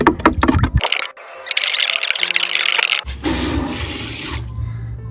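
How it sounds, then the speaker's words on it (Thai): Plain water, ten litres, pouring into a plant fertilizer mix made with leftover rice and MSG: a loud gushing splash that changes tone midway and continues steadily, with no speech. "ผสมน้ำเปล่าไปเลยนะคะ 10 ลิตร"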